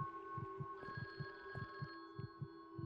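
A telephone rings in a house in the spooky puzzle game The Guest, with a quiet, steady electronic tone and soft rhythmic pulses beneath it, and no talking.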